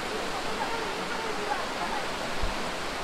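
Dudhsagar waterfall in Goa roaring as a steady, dense wash of falling water heard from a nearby bridge, constant and loud with no pauses.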